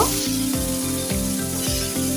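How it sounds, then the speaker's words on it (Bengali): Potatoes frying in a pan with light salt after fish was fried in it, a steady close sizzle of oil with faint rhythmic clicks, no voices. "হালকা লবণ দিয়ে আলুটাকে ভেজে নেব"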